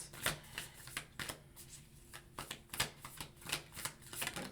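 Tarot cards are shuffled by hand in a rapid series of crisp riffling bursts and soft slaps, close and fairly quiet, with no talking.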